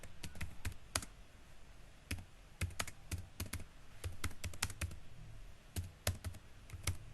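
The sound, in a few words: typing a query on a computer keyboard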